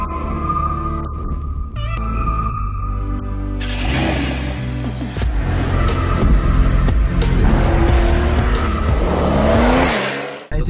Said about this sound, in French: Juste avant j'avais la Porsche 911 992 Carrera S, pour ceux qui connaissent, en décapotable.